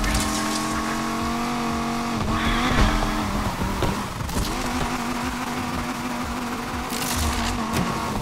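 A car drifts in Need for Speed Unbound, its engine droning under sustained tire squeal, with the pitch shifting and surging several times over a continuous, loud stretch.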